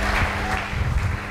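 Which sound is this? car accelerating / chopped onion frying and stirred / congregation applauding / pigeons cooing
congregation applauding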